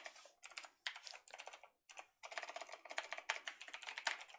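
Close fingers clatter across a computer keyboard while entering code, quick bursts of keystrokes with brief pauses between them and no talking.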